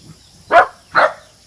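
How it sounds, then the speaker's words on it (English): A dog at a home in the Philippines gives two loud, close barks about half a second apart, alone with no talk. "We have dogs."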